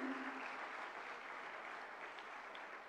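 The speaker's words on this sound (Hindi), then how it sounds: "जोरदार तालियां हो जाएं माननीय मंत्री महोदय जी के स्वागत के लिए।" Audience at a government health conference applauding to welcome a minister, a steady, even patter of clapping that fades slightly toward the end, fairly faint and without speech.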